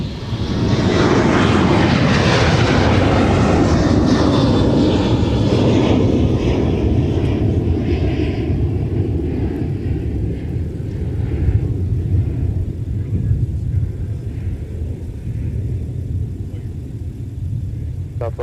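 Airliner taking off at Minneapolis–St. Paul airport, a loud roaring jet engine rumble that sweeps past and slowly fades, heard from nearby with faint voices in the background.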